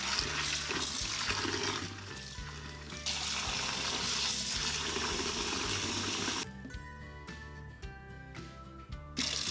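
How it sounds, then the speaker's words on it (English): Tap water runs steadily while peanuts are rinsed in a kitchen, being prepared for Cantonese pork belly zong zi. The loud, even stream cuts off about two-thirds through, leaving quieter drips and handling sounds, with no talking. "Peanut, rinse and soak in water for overnight."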